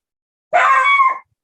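A dog gives a single drawn-out howling bark, loud and close, lasting under a second and heard on its own against silence.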